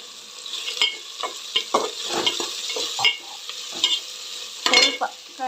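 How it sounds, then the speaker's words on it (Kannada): Grated coconut is stirred in a hot pan for hotel-style chicken biryani: close, repeated spatula scrapes and clinks over a steady sizzle, with no voices. "ಒಂದು ಸ್ವಲ್ಪ ಕಾಯಿ ತುರಿ ಸೇರಿಸ್ಕೊಳ್ತಾ ಇದ್ದೀನಿ"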